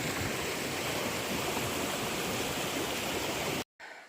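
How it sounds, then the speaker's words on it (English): A mountain stream rushes beside the Appalachian Trail, a steady loud broadband wash of water that cuts off abruptly near the end before resuming briefly. "get down to that stream way down there"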